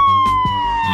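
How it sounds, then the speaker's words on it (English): A cartoon police car siren wails steadily during a chase, holding a high sustained tone, loud and close, over busy background music. "A police car is chasing the intruder."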